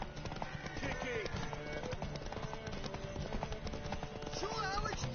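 Hoofbeats of a horse galloping in The Witcher 3 video game, a steady rhythmic clip-clop under game music and voices talking.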